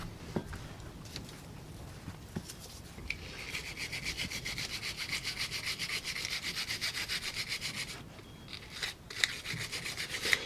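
Someone scrubs rust off the pad-carrier hardware of a Nissan Leaf's rear disc brakes, a steady close rasping that runs for several seconds, pauses briefly, then resumes in shorter strokes.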